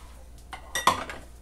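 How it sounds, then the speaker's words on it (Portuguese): Dishes, pots and cutlery are washed in a home kitchen at midnight, giving a few sharp metallic clinks and clatters in quick succession, close and distinct against a quiet background. "só vivo lavando louça"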